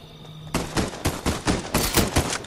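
Gunfire in the Fortnite video game, a rapid string of about eight sharp, loud shots in a steady rhythm after a quiet half second, with no talk.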